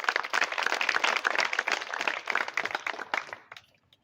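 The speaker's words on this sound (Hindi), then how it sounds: "एक बार अपने लिए तालियां बजा दो आप।" A crowd at a Hindi-language talk on farming and society claps for itself, a few seconds of brisk, fairly close clapping that dies away quickly toward silence.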